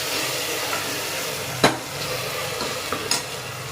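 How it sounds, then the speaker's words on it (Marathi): Ginger, garlic, green chili and coriander paste frying in a pan for soybean pulao gives a steady, close sizzle, broken by a few sharp utensil knocks against the pan. "आता आपण टाकू यामध्ये अद्रक लसूण मिरची कोथिंबीरची पेस्ट। यालाही छान पैकी आपण फ्राय करून घेऊया।"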